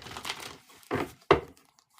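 A deck of tarot cards shuffled by hand: two rustling, papery swishes followed by a sharper snap as the cards settle, close up, with no voices.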